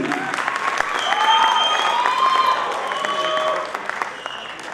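Comedy theatre crowd applauding warmly for several seconds, a thick continuous clatter of clapping with whistles and shouted voices rising over it before it begins to thin toward the end.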